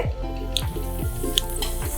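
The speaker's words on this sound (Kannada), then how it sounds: "ಅರ್ಧ ಟೀ ಸ್ಪೂನ್ ಅಷ್ಟು ಜೀರಿಗೆನ ಹಾಕಿ ಚಿಟಪಟ ಅನ್ನೋವರೆಗೂ ಹುರ್ಕೋಬೇಕು" Mustard and cumin seeds crackling in hot oil in a kadai, a continuous close sizzle with sharp pops and light stirring over a steady low hum.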